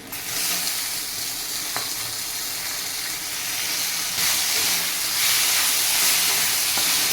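Chopped tomatoes frying in a pan, a loud steady sizzle and hiss that swells slightly partway through, with occasional faint stirring clicks and no talk.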